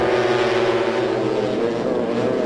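UB150 racing motorcycles at the Buriram circuit in Thailand pass as a loud, continuous engine drone whose pitch shifts slightly as the bikes move.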